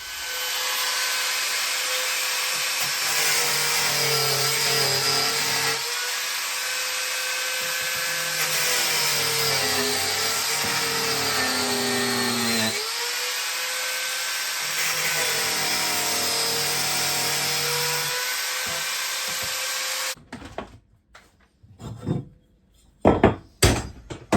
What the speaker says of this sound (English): Back to the trusty angle grinder.